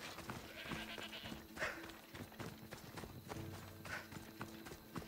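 Horse hooves clip-clop in Assassin's Creed Odyssey in a steady rhythmic pattern, fairly quiet, with a bleating animal call mixed in partway through.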